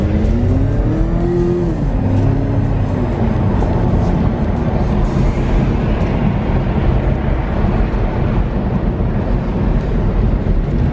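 A turbocharged Cadillac pulls hard at full throttle, its engine note rising and shifting in the first seconds before settling into a loud, steady roar of sustained acceleration with broad road and wind noise throughout.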